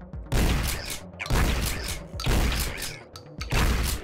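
Enemy gunfire in the retro-style shooter Project Warlock, loud bursts of rapid shots in four close clusters separated by brief pauses, with no talking.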